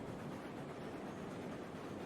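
A long steam train in the game Railroads Online rolls along with its fire running low, giving a steady, faint rumbling drone with soft rail clatter and no voices.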